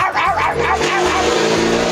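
A boy imitates a dog's barking with his voice, giving a rapid run of loud, close yips and barks that repeat in short bursts.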